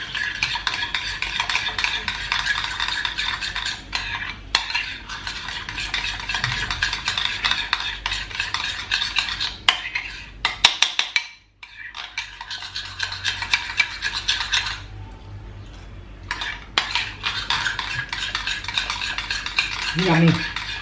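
A spoon scrapes and clinks against a bowl as hot and sweet sauce is stirred and mixed, in a continuous close rhythmic rubbing, with brief pauses and a short quiet gap midway.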